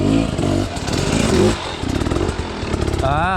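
An enduro motorcycle engine runs loud and steady through hard enduro training, with a gritty, buzzing revving tone throughout and a voice speaking briefly near the end.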